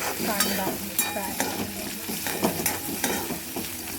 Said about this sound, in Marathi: थोडा गॅस मिडियम केला आणि कांदा फ्राय